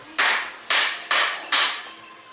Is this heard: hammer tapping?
yes